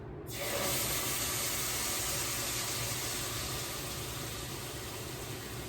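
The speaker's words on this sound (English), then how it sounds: "I'm going to pour the curry into the oil and be careful, you want to pour it away from you because you're going to get a bit of a sizzle" Curry is poured into hot oil in a pan for coconut curried shrimp, bursting into a loud, steady hiss of sizzling that starts almost at once and holds, easing only slightly toward the end.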